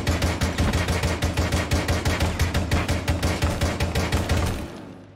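Rapid gunfire at practice targets in Rainbow Six Siege, a long run of evenly spaced, loud shots in quick succession that ends abruptly, with no talking.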